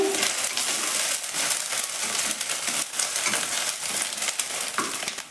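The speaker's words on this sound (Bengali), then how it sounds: "এটাকেও এর সাথে খুব ভালো করে ভেজে নেব আদা রসুনের কাঁচা গন্ধটা যাওয়া পর্যন্ত এটা একটু নেড়ে নেব" Ginger and garlic fry in a pan and are stirred, a close, continuous crackling sizzle with a faint bird call in the background and no speech.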